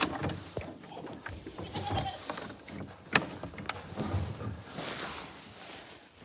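Goats bleat at a goat farm with about ten animals out, giving several short, moderately near calls scattered over quiet outdoor background and light rustling.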